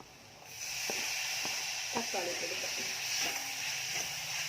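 Spice powder sautéing in a hot pan for a prawn rice dish gives a steady close sizzling hiss, with faint speech in the background.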